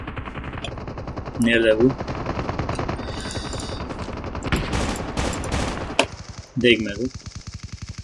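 Bursts of automatic gunfire from a Call of Duty match ring out in short rattling volleys, one near 1.5 seconds and another near 7 seconds, over steady game noise while players talk throughout.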